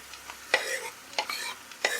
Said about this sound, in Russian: Добавляю в сковородку морковь и яблоко.